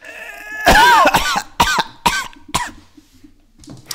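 A close, harsh cough burst followed by several shorter coughs tapering off, loud and right up against the microphone.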